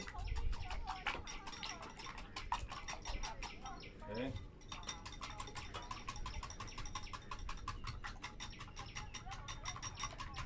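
Four eggs are beaten in a bowl for a coconut omelet, a fast, steady clatter of utensil strikes against the bowl that runs throughout with only a brief pause, close and fairly loud.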